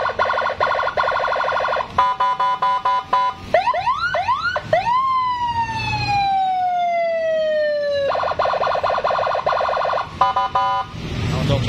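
A police escort siren fitted to a Honda Beat motorcycle blares loud and close, cycling through rapid pulsing tones, a series of rising whoops and a long descending wail, then returning to rapid pulsed bursts.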